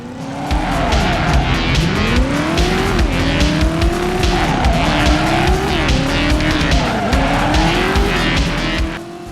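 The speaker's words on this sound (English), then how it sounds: "Or maybe most of the gamers could not execute a reverse 180." A car in the 1999 driving game Driver swings through a reverse 180, tires squealing in long rising and falling whines over a loud, steady engine roar, with no voices.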